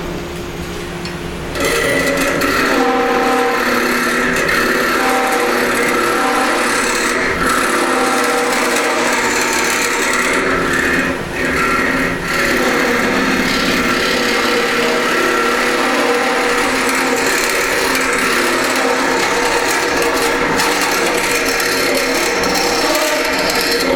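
A wood lathe spins loudly and steadily while a tool scrapes and hollows out the inside of a wooden hollow form. The continuous, close cutting noise carries on for the whole stretch, with small variations in texture.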